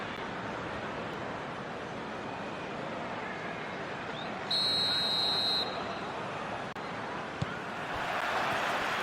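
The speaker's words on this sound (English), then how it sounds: "There's the whistle, and here we go." A referee's whistle blows one long, shrill blast to start a football match, rising clearly above the steady roar of a stadium crowd.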